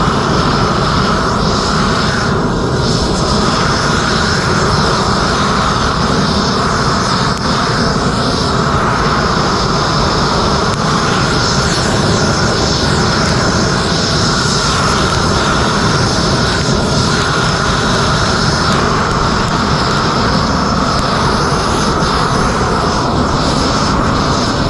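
A propane torch gun roars steadily at an off-grid cabin while scorching natural wood, a loud continuous broadband rush with no talking.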